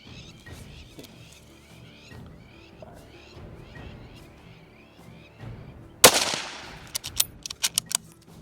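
A single sharp, loud hunting rifle shot fired at a sable antelope on an African hunt cracks out over quiet outdoor ambience, followed by a few fading echoing reports.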